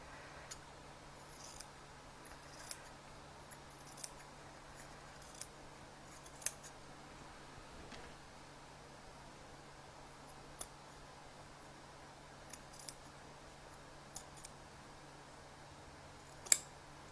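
Scissors cut fabric near a basting stitch in quiet, scattered snips spread across a hushed background, with one louder snip near the end.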